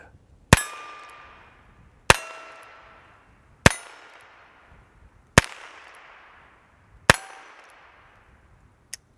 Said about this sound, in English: All right, 6 rounds of stangers. These are going to be much louder, so here we go.